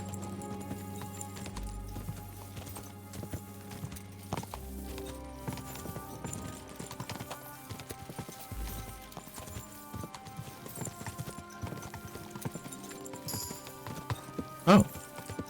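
Horse hooves clip-clop steadily in Kingdom Come: Deliverance II, a medieval role-playing game, mixed under game music and other sounds, with a brief louder hit near the end.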